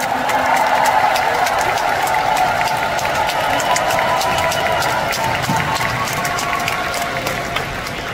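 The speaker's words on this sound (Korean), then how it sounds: "공연 내내 묵묵히 멋진 연주해주신 밴드분들과 댄서분들께 큰 박수 부탁드립니다" Audience applause at an indoor Mister Trot 2 Top 10 concert at the Daejeon Convention Center, honouring the band and dancers: dense, sustained clapping from a large crowd, steady and loud for the whole stretch and fading slightly near the end.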